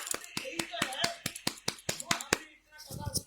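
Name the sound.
applause from audience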